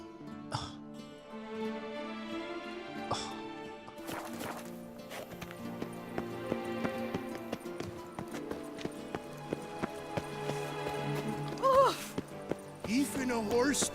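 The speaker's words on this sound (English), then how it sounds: "Even a horse drops if you ride it with a constant gallop." Hooves clip-clop steadily from a horse ridden in The Witcher 3: Wild Hunt, a quiet rhythmic thudding under game music and scattered voices, growing busier and more regular in the second half.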